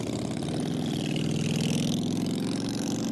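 Loud motorcycles roll past on a town street in Sylvan Lake, their engines rumbling steadily and close by for several seconds with no talking over them.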